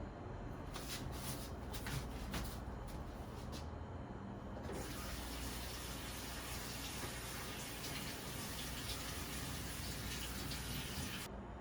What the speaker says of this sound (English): we're quickly just going to run cold water onto these eggs so that they stop cooking right now.